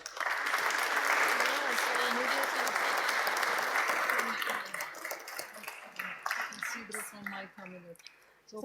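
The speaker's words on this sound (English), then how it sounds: "Your big round of applause for all of the people here." An audience applauds loudly at a startup networking event, with dense clapping for about four seconds that thins into scattered claps and a few voices.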